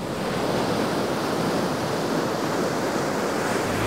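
Ocean surf roars as waves break continuously off the beach at Malibu, a loud steady wash of crashing water with a little wind noise and no voices.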